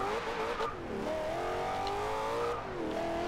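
Corvette ZR1 in Forza Horizon 2 with a drag-tuned build, engine revving up to 7,000 RPM, a loud rising whine climbing through gear changes with brief dips between shifts.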